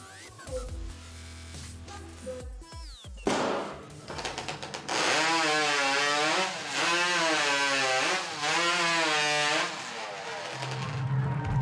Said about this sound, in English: In the hot saw discipline, the athletes have to cut three slices from the log as evenly as possible